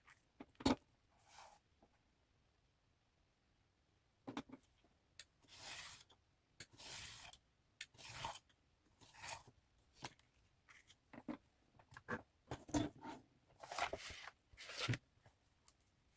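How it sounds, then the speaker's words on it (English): A craft knife draws along a metal ruler through paper in a series of short, faint scraping strokes, irregularly spaced with quiet gaps between them. "The easiest way is to use a metal ruler and a craft knife, and to cut along the dashed lines."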